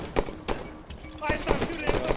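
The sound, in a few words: gunfire in Halo Forge video game match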